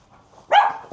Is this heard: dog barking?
yes